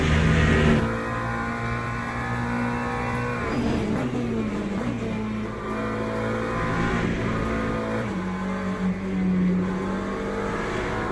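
GT3 race car engine in the Le Mans Ultimate racing game, a loud sustained droning note that shifts pitch as the car works through corners, with steady gear changes and no talk.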